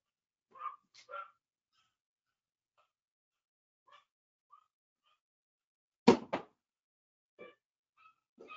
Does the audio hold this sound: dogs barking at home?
yes